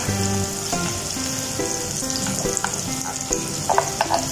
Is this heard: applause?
no